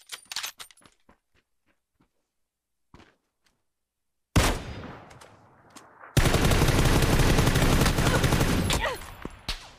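Gunfire in the battle royale game PUBG: a few scattered clicks and single shots, then a loud burst followed by sustained rapid automatic fire close by, with no voices.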